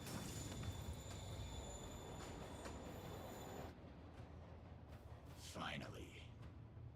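A train rumbles along in the Spider-Man Remastered video game, a steady loud roar with high squealing tones that cuts off suddenly, leaving quieter ambience and a brief whooshing sweep.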